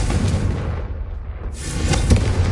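A Confringo fire spell from Hogwarts Legacy bursts in a loud, sustained roaring blast, dense and rumbling, dipping briefly before flaring again with a sharper crack near the end.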